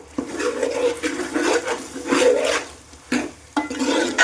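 Spices being mixed into a gongura chicken curry in a pan, a steady wet scraping and stirring that runs almost the whole time in moderately loud, uneven strokes with short pauses.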